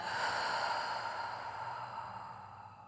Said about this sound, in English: let's take a nice deep breath in. And then even deeper breath out.